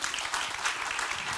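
Steady, even applause from a seated audience at an energy-themed talk, brisk continuous clapping filling the whole short stretch.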